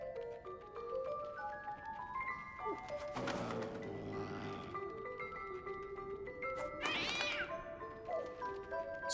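A cat in the video game 11-11: Memories Retold meows several times, with two loud, drawn-out calls standing out over a steady backdrop of music and ambient game sound.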